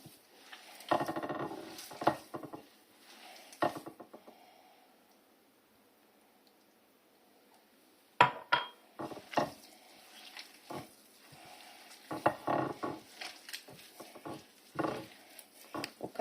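Oil is being worked into ghriba dough in a bowl, heard close as intermittent soft squelching, stirring and scraping bursts separated by quiet pauses.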